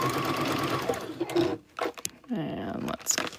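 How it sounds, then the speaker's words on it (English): Domestic sewing machine running in short bursts while back-stitching the seam of a fabric boxy bag, a steady mechanical whir that stops and restarts, with faint handling noise between runs. "Back stitch."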